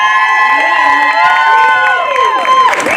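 A lively crowd at a social justice center's sixth anniversary event cheers and whoops with high-pitched shouts, loud and continuous throughout, with a dense roar of voices and possible clapping underneath.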